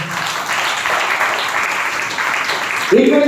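A church congregation keeps up a steady patter of clapping during a sermon, and a voice breaks in over the applause just before the end.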